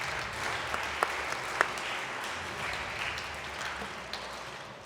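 An audience at an education talk gives students a dense, steady round of applause, heard from a distance and fairly faint, with a few sharper individual claps.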